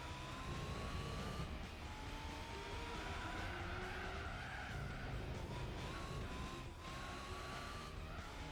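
Tires squeal and skid as a car oversteers through a corner in the Gran Turismo 4 racing game, a continuous loud screech with wavering pitch layered over steady engine roar, with no talk.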